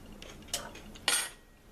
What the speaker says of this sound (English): Let me get a fork. Get a little bit out of here.